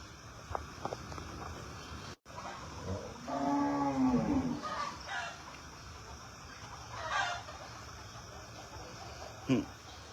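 A cow among farm cattle gives one drawn-out, moderately loud moo in the middle of the scene, with fainter animal sounds and outdoor background noise around it.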